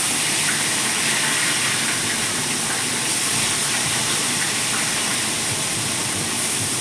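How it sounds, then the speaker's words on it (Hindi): Fish coated with salt and turmeric frying in oil, a loud, steady, dense sizzling hiss that holds unbroken from start to finish. "मैंने उसमें मछली में नमक और हल्दी डालकर मिलाकर उसे फ्राई कर रही हूँ।"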